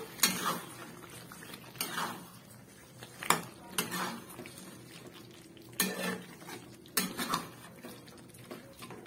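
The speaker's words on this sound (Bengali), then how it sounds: "এবার একটু ভালো করে নাড়াচাড়া করে নেব" Chicken curry finished with coriander and a spoon of ghee being stirred in a pan: a spoon scrapes and knocks against the metal in irregular bursts about every second or two, with a faint background sizzle and no talking.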